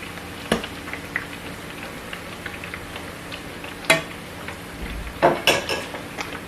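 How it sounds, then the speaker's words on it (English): A spoon stirs plantain in a pot, making sparse clinks and scrapes against the metal over a soft sizzling background, with a cluster of sharper knocks near the end. "So I'll continue to just stir this one properly"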